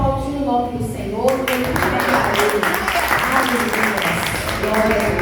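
Churchgoers applaud the name of the Lord while returning to their seats, sustained clapping swelling up after a voice speaks at the start and carrying on over continued talk.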